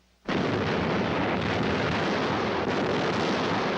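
Long-range WWII artillery shelling Leningrad: a sudden loud blast opens into a sustained, heavy roar of explosions that rumbles on without a break.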